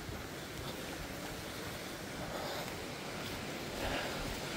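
Waterfall and river in Eagle Canyon, a steady broadband rush of falling and flowing water heard at moderate distance, constant and unbroken with slight swells, no speech.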